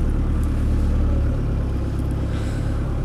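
An original Land Rover 90 hardtop with a 2.5 diesel engine pulls away, its low engine rumble steady and close, rising slightly as it drives off, with no talk.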